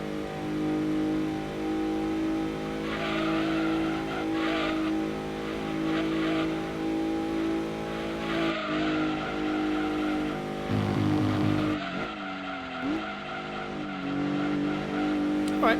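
A race car engine in the video game Gran Turismo 2 on PS1 drones steadily with shifting pitch, revving and easing off, with a brief tire squeal near the end.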